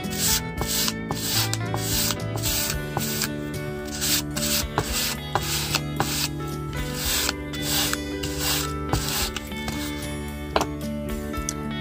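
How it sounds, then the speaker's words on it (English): Plastic gift cards sanded by hand, a close, steady rasping rub in rhythmic back-and-forth strokes that continues without pause and with no talking. "I had a bunch of these gift cards over here that I'm going to sand down and paint"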